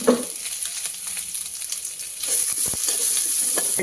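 Onions and dry red chillies fry in a pan for village-style bassaru, giving a steady close sizzle that grows louder and busier partway through, with a few light stirring scrapes and no talking.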